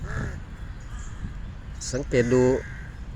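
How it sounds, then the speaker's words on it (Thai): A crow caws while feeding its chicks, a couple of harsh calls partway through that sit over a low background, with someone speaking briefly. "ดูอีกามันป้อนเหยื่อให้ลูกมันครับ"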